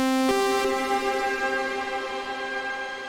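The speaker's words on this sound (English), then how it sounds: "we can set it to say riser, so it's a Valhalla shimmer sound." A sustained synth chord rings out through a Valhalla shimmer reverb set to riser, its harmonics blooming into a bright, shimmering tail that swells upward and lingers.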